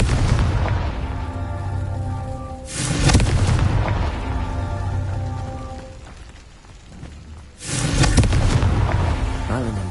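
In Hogwarts Legacy the Confringo explosive spell sets off two heavy booming blasts, one near the start and another later, each a loud low burst that rumbles over a sustained music-like drone.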